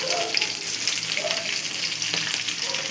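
Garlic and green chilies fry in hot oil, a steady close sizzle with crackling spits and faint stirring running throughout, no voices.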